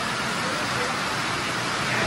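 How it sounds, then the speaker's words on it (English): Steady rain falls outdoors, a broad continuous hiss of drops filling the whole stretch at moderate loudness with no breaks. "it's raining out here"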